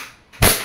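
A single sharp pop from an E&C airsoft Glock 19 Gen 5 pistol shooting a 6mm plastic BB, one close, loud crack after a brief quiet lead-in.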